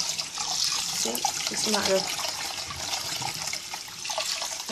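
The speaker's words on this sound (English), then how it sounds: "I just let it run through, and just with your hand just give it a wash" Tap water runs steadily into a pot of rice being rinsed and washed by hand in a kitchen, a continuous splashing hiss under a person talking close by.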